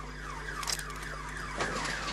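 House alarm set off by an electric fence during a South African police special task force raid, sounding as a repeating electronic wail that sweeps up and down at moderate loudness, with no talking.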